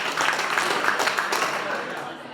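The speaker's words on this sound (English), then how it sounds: "If you can hear me, clap once. You can hear me, clap 5 times." A young adults' retreat audience applauds in a dense, steady wash of many hands clapping together, sustained and fairly loud, then easing off slightly toward the end.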